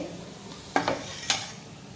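A methi (fenugreek) paratha cooks on a pan with a soft, steady sizzle, broken by a few quick scraping clacks of a spatula, close and alone with no voices.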